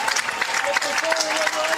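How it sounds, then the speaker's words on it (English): Illinois baseball fans at a home game against Iowa give a loud, dense round of applause, a steady wash of clapping with crowd noise and a commentator talking over it. "applauding loudly for their home team"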